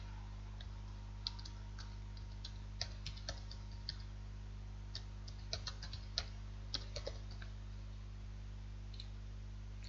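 Steady, quiet clicking of computer keyboard keys as someone types French verb phrases, sparse irregular taps over a low constant hum, no voices.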